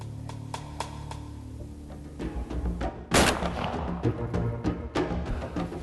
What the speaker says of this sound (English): If I can get this buck shot, I'm gonna try to shoot that doe.